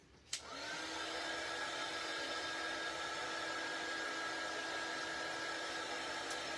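A hair dryer switches on with a sharp click and then blows steadily to dry paint on a star-shaped Santa cutout ornament, a continuous close whirring hum with no speech.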